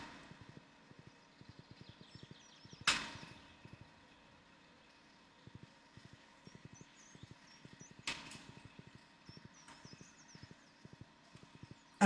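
A horse's hooves clip-clop in a steady, quiet rhythm across a farm in the Stardew Valley video game, with two brief louder bursts of other game sounds.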